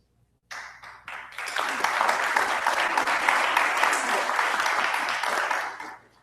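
An audience of teachers at a training session breaks into sustained applause, many hands clapping together, swelling quickly, holding loud and even for several seconds, then fading out.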